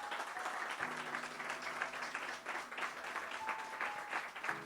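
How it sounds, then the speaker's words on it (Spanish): Spanish-speaking church congregation applauding, a steady wash of clapping sustained through the whole clip, moderately distant, with faint sustained musical tones underneath. "Dale ese aplauso al Señor."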